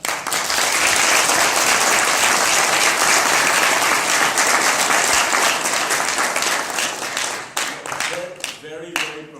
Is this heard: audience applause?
yes